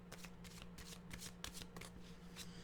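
A deck of animal oracle cards being shuffled close by, with quick, repeated riffling bursts of soft card flutter against a quiet room.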